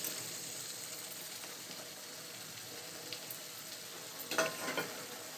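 A vegetarian coconut vegetable curry fries in a pan with a faint, continuous sizzle, and near the end a spoon scrapes and stirs briefly.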